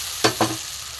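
Water poured into a pan of frying cauliflower with spices sets off two quick, loud bursts of hissing sizzle close by, which fade into a low simmer.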